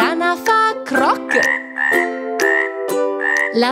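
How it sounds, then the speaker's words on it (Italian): Frog croaks repeat in a steady series of short, clear, nasal calls, close and fairly loud, about seven to eight croaks in quick rhythm with no talking. "la rana fa croc,"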